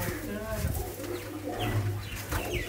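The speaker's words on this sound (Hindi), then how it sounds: "नायाब तरीन कबूतर हैं, परवाजी कबूतर हैं ये" Pigeons of a prized flying breed coo softly in short repeated phrases, with someone talking over and around them.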